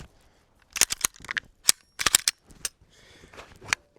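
Glock pistol shots fired at a target on an outdoor range, a series of sharp loud cracks in quick irregular bursts with short gaps between groups, no talking.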